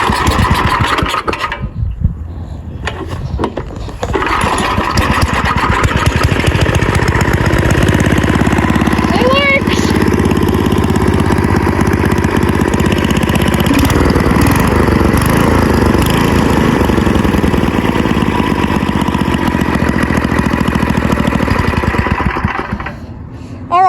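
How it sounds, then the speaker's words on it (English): An old AMF snowblower engine, left sitting for over 20 years, is cranked and catches. It then runs loudly and steadily for about twenty seconds, close by, before it cuts out near the end. "start it up, and see how she starts without starting fluid this time"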